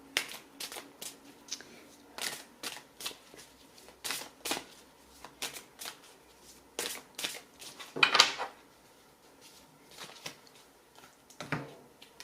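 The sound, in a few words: shuffling oracle cards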